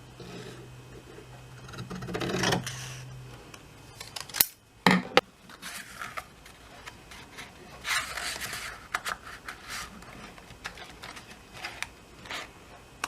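A paper strip trimmed with scissors during paper punching and die-cutting craft work, heard as a few close, sharp snips around the middle amid quiet handling rustles.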